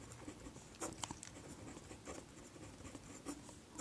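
Steady scratching of a pen writing by hand on paper while working a maths problem, close and continuous with small strokes and taps throughout, no voice over it.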